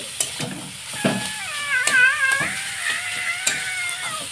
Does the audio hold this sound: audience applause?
no